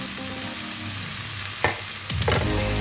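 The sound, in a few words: green and red chilies, ginger and turmeric frying in a pan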